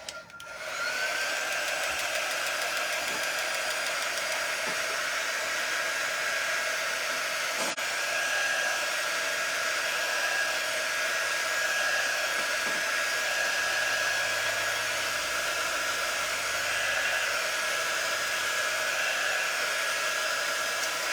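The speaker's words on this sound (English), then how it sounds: "hit it with my dryer" A hair dryer blows steadily and loudly on a transfer over a mason jar for the whole stretch, a constant airy roar with a thin high whine, with no talking.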